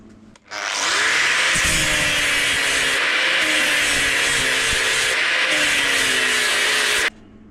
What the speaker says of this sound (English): let's grind that off now, and then we should be able to wind that brass out